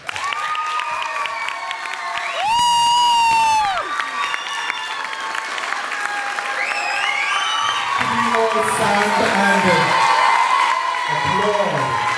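A graduation audience at the Heinz Simonitsch School applauds and cheers after a valedictorian speech, steady dense clapping with whoops and shouting throughout, a loud tone briefly cutting in near the start and voices calling out over the crowd.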